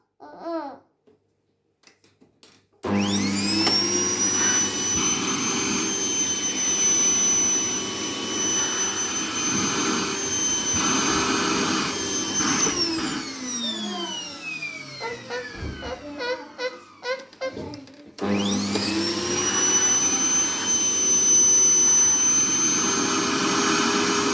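A household vacuum cleaner used to sweep a house switches on with a loud, steady whine after a quiet start, cuts out and winds down, then starts up again, with a voice briefly at the beginning.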